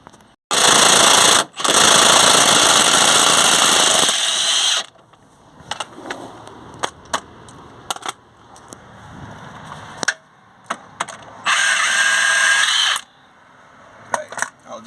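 Powered ratchet or impact tool removing a suspension bolt on a Volkswagen T4 van, loud whirring bursts at the start and again later, with clanks and scattered knocks between them, close by.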